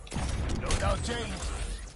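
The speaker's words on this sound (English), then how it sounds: "Swapping mags." A quick mechanical clatter and creak of a magazine being swapped while reloading a gun in a video game, close and alone, lasting about two seconds.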